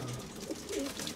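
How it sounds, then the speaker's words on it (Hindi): Soft, low pigeon coos sound briefly amid faint background noise, a couple of short murmuring calls close by. "ये कबूतर है"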